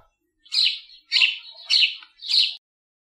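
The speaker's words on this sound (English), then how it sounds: "Sparrow." Four bright sparrow chirps, close and loud, come in a steady rhythm about half a second apart against a quiet background.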